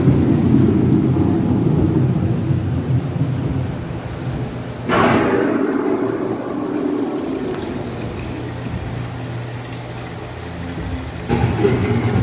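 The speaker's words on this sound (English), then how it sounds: "The approaching storm may seem violent and destructive to us, but to nature, it's a new beginning in the cycle of life." Thunderstorm sound effect inside a Disney attraction: a low continuous rumble with a sharp thunder crack midway and another rising burst near the end.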